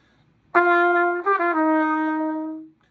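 A bright trumpet holds a note, then two rapid grace notes ripple in before it lands on a sustained final tone that fades out.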